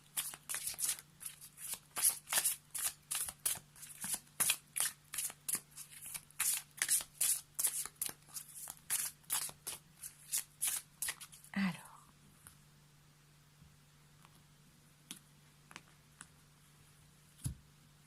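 Tarot cards shuffled in quick, crisp riffling bursts for about twelve seconds, close and fairly loud, then a few faint scattered card taps in near silence with a low steady hum underneath.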